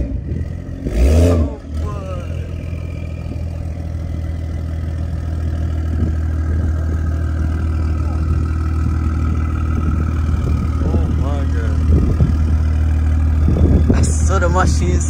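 BMW M340i with an aftermarket exhaust, running loud and close with a deep rumbling drone and a brief early rev, as voices talk over it.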